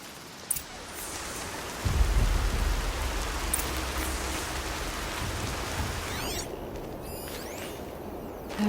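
Steady, dense rain falls in Horizon Zero Dawn, a wash of hiss with a low rumble swelling briefly near the start. Toward the end it thins into a quieter patch with faint ringing tones.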